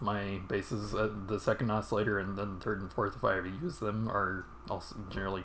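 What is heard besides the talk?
None of the usual background noises is heard.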